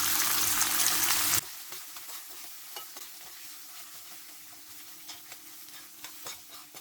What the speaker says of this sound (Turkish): Evet, pirincimizi iyice kavuruyoruz.